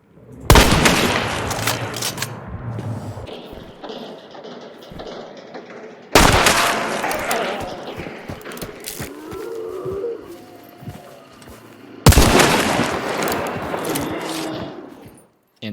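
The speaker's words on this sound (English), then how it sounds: "being near a gunfight sounds so awesome and so scary at the same time" Gunfight in Hunt: Showdown, three loud sharp gunshot blasts a few seconds apart, each followed by long rolling echoes and scattered distant shots, with faint low lowing-like sounds in the quieter stretches.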